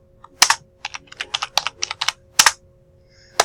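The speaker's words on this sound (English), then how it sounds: "I'm going to type a title in here. I'm going to type life safety." Typing on a computer keyboard: a close, brisk burst of irregular key clicks with a few louder thumps, likely the space bar, and no voices.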